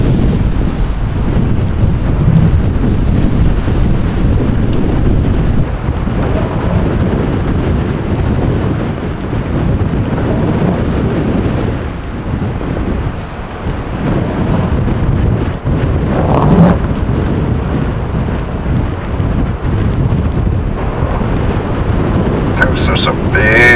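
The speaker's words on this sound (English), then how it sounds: "Those are some big waves." Big ocean waves surge and crash in a hurricane-force storm by the sea, a continuous loud roar of surf churned with heavy wind buffeting the microphone, with a voice briefly speaking over it.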